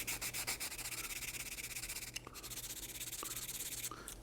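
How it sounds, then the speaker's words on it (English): Sanding sticks rubbed back and forth over the seam lines of plastic model rocket fins on a 1/100 scale Estes Saturn V kit, giving a steady close scratchy rasp in repeated strokes with a few short pauses and no talk. "go back to our fins and clean up these seam lines a little bit with our sanding sticks"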